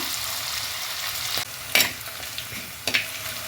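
Shallots, green chili and ginger frying over medium flame in a pan, a continuous light sizzle broken by a few brief stirring scrapes, close and without talk.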